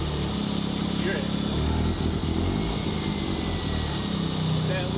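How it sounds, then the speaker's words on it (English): Rotary-engine Corvette with a turbo, its engine running steadily up close while a faint rising turbo whine comes and goes over the rumble. "That turbo it's already spooling."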